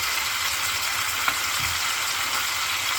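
Chicken pieces for shawarma sizzle steadily in a hot pan, a constant bright crackle with a brief clink of a utensil as the meat is turned partway through.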